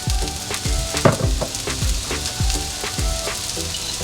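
Beef sizzles loudly in a hot pan for a South Indian roast while seasoning goes in, a steady frying hiss broken by repeated sharp crackles and pops, close up with no talking.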